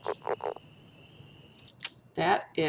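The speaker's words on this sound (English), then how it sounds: "That is the northern leopard frog." Northern leopard frog call: a few short croaking pulses at the start, a thin sustained tone, then louder rasping, snoring grunts near the end, fairly close and clear with no talking.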